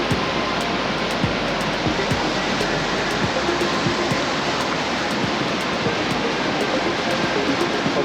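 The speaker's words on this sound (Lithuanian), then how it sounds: "Eina sau, čia krioklys." Steady roaring rush of a waterfall beside a slightly swaying footbridge on a road trip north through Norway, loud and continuous, broadband water noise with no voices.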